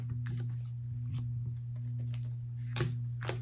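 Someone shuffles a deck of Pokémon trading cards during a retro tabletop match: a few crisp riffling bursts over a steady low electrical hum, loudest near the end, with no talking.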